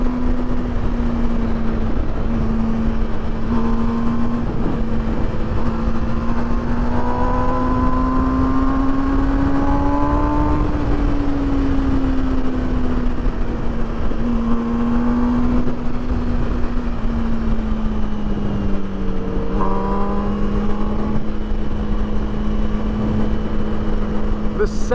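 A 2021 MV Agusta Brutale 1000 RR inline-four engine drones loudly and continuously while riding, its pitch rising and falling with throttle changes, with someone talking over it at times.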